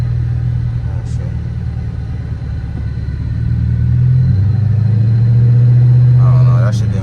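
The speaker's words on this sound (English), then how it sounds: "Oh, I see a Camaro coming." A Chevrolet Camaro passes at a car meet, a deep engine rumble that swells louder as it approaches and holds a steady low drone near the end, with people talking nearby.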